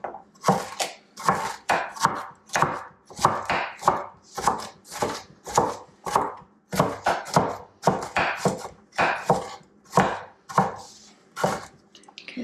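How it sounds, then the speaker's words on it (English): Carrots and onions are diced for homemade chicken soup with a knife on a board, a long run of loud, close, evenly spaced chops that keeps a brisk rhythm with no talking. "But I also need diced carrots and diced onions."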